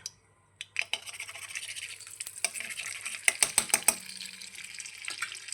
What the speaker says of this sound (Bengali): তেল দিয়ে বাকি সবজিগুলো আমি আস্তে আস্তে ভেজে নেব